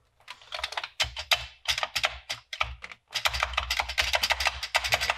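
Rapid clattering keystrokes on a Commodore 64 breadbin keyboard under repair, close and loud, in irregular bursts with a short pause before a denser run of typing.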